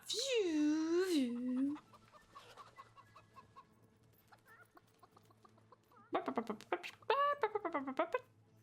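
In the video game Fable III, a drawn-out, wavering squawk opens, then after a quiet stretch several chickens cluck in short, choppy bursts, fairly close.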